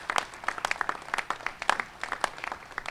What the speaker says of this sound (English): Give Richmond a great round of applause